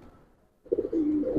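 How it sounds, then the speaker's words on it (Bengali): A Giribaz pigeon in a loft lets out a single low, throaty coo after a brief hush, close and moderately loud, with no voices. "এই সাপচিলা কবুতরের লাইন গুলো অনেক ভালো"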